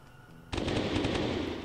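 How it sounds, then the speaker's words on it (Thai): Rapid gunfire from the mobile action shooter Slaughter 3: The Rebels breaks out suddenly after a quiet moment and continues as a loud, dense, steady burst of shots to the end. "ยิงจนประตูเปิดละ"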